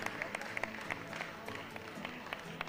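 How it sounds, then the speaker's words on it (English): Scattered applause from a small crowd at a masters weightlifting championship for an athlete after a missed lift, with distinct individual claps popping out over a low murmur of voices. "Round of applause, ladies and gentlemen"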